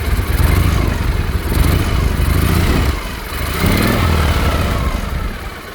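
A slightly warm 1980 Harley-Davidson FLT Tour Glide runs close by with a loud, steady, rumbling engine note that dips briefly in the middle before settling back to a throaty idle.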